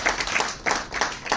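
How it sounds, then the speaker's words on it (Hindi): Audience applause welcoming singers Hemal Khatri and Rajesh Bhatt at a Bansari Group stage programme: a brief, steady patter of many hands clapping at moderate volume, with no speech over it. "उनका स्वागत कीजिए तालियों से प्लीज।"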